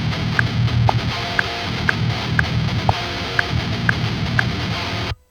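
Rough heavy distorted electric guitar riff played as a scratch track, slightly out of time, with chugging low notes and sharp picked accents that repeat unevenly before stopping abruptly near the end.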